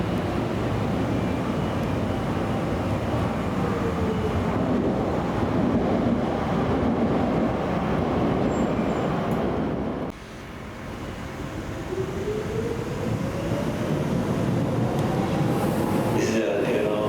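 A DLR train rumbles and hisses through Custom House station, a steady broadband roar that dips briefly midway, then builds again as the train moves, with station ambience around it.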